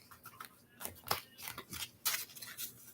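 Tarot cards being shuffled and the deck split: soft, quick riffling and papery slaps in uneven bursts, close but quiet, with no talk.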